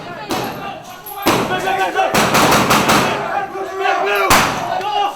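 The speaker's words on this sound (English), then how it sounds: "Guam National Guardsmen had blanks in their guns" Blank rounds fired in bursts by Guam National Guard troops during a military training drill, several loud sharp volleys with rapid repeated cracks close by, separated by brief gaps.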